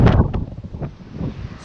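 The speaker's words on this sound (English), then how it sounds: "pretty windy here" Gusty wind buffeting an outdoor microphone in Ireland, a loud rumbling blast at the start followed by softer, uneven low gusts, with no talking.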